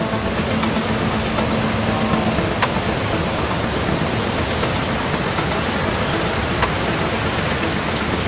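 The flooded Teesta river roars as a continuous, loud rush of water, a dense unbroken wash of noise with a couple of faint clicks and no voices.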